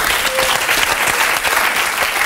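A television studio audience claps steadily and densely, a sustained wash of applause with no voices over it.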